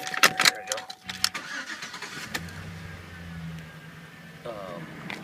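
A lifted 2005 GMC Sierra 4x4 truck cranks and fires, its engine catching and settling into a low, steady idle, heard close after some clicks and handling noises.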